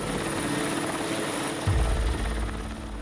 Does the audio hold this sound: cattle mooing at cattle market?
no